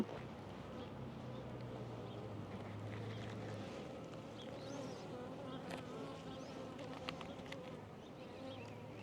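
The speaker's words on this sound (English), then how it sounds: "Way more bees in this one." Dense buzzing of many honey bees around a hive, swarming close by, a continuous droning hum with occasional louder passes, no talking.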